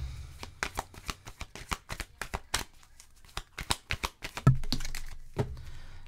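Tarot cards are shuffled and drawn from a deck in a reading, a quick run of crisp, close flicking snaps and slides in irregular bursts with short pauses between them.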